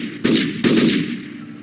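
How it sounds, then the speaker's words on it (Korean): Machine gun fire rings out as a sound effect in a Korean audiobook, two loud, close bursts in quick succession, each with a rough, sustained crackle that trails off. "세 사람을 향해 총을 쏘기 시작했다."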